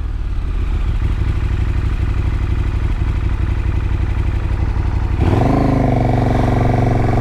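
A 2018 KTM Super Duke GT motorcycle engine runs loud and close with a steady, throbbing rumble, then shifts to a higher, smoother rev partway through.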